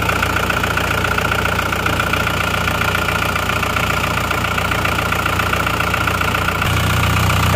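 A car engine that sat unused for three years idles steadily and loudly up close, a continuous rough mechanical hum with fine rapid pulsing and no break.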